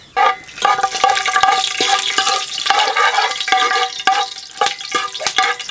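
Whole spices (bay leaf, cloves, cardamom, star anise, cinnamon) dropped into hot oil for chicken biryani sizzle and crackle loudly and continuously up close, with sharp pops throughout.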